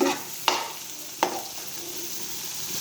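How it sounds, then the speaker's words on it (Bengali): Bitter gourd fries in a pan: a constant hiss of hot oil close by, with two sharp scrapes of a spatula about a second apart. "করলা আমি একটা ফ্রাইড করে নিচ্ছি"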